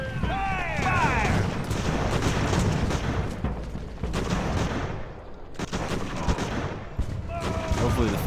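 Cannon and musket fire on an Age of Sail battlefield in Ultimate Admiral: Age of Sail, a dense rolling rumble of distant volleys with scattered sharper cracks throughout.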